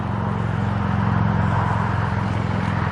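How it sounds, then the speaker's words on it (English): Steady road traffic roaring past on a nearby road beyond the woods, a continuous broadband rumble with a low engine drone, unbroken and fairly loud throughout with no talking. "You can hear the traffic roaring by on the road out there"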